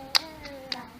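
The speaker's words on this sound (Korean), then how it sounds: "두 친구가 아주 잘 맞춰서 손뼉치기를 하고 있어요." Two children playing a traditional North Korean hand-clapping game, four crisp, close hand claps spaced unevenly over about a second, with a faint tonal hum in the background.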